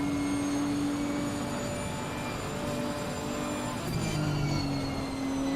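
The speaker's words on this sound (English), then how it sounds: "going full throttle on the charge now up towards what is Blanchamon Corner here" A racing car at full throttle at Spa-Francorchamps gives a continuous, droning engine roar with steady tonal whine. The pitch shifts slightly near the end.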